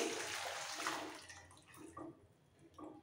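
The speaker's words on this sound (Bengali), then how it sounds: "এবার আমি এর মধ্যে জল দিয়ে দিচ্ছি," Hot water poured into a pan over fried lentil dumplings for Odisha-style dahibada, a faint splashing pour at first, then fading into soft scattered drips and small liquid plops, with no talking.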